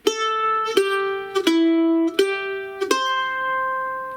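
Picked bluegrass mandolin repeats a short phrase in downstrokes, five crisp note attacks evenly spaced, each ringing bright and clear with no voices over it.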